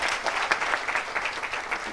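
A crowd claps at a Nairobi summer school on climate justice, a brief burst of steady, dense applause with small surges and no talking.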